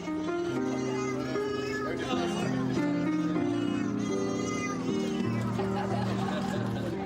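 A person imitates cat meows with their mouth during a Musical Pussycats performance, making a string of sung, meowing pitches over background music and crowd chatter. The sound is steady and moderately loud throughout.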